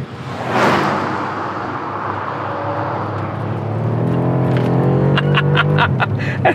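A 2019 BMW M5's engine pulls hard out of a hairpin, its note rising steadily and growing louder as it accelerates, with a few sharp clicks or pops toward the end and no talking.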